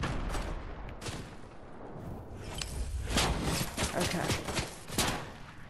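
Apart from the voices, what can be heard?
gunfire in a video game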